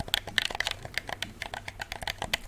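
Game controller shoulder buttons give quick, sharp clicks in an irregular rapid patter, close and crisp, with no voice over them.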